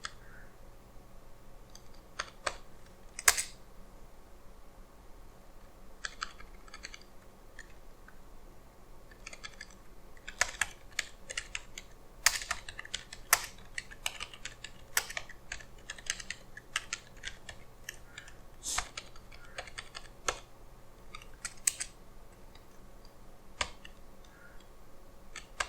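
Someone types a banner message on a computer keyboard while configuring a Cisco router, with irregular bursts of clicky keystrokes, some louder taps and brief pauses between runs of fast typing, close and clear over a quiet hum.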